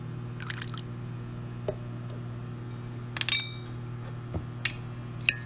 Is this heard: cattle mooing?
no